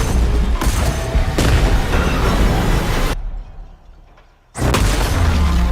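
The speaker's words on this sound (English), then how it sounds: "So, train wreck or a train derailment, wreck, explosion, chemicals all over the place." Booming explosion and rumbling blasts from a train derailment scene in a Netflix film trailer, loud and dense, cutting to near silence before another heavy burst returns.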